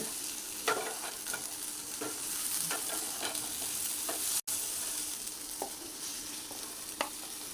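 Drumstick pieces and okra fry in a pan with a constant soft sizzle, punctuated by occasional scrapes and clicks of stirring, close and moderately quiet with no talking.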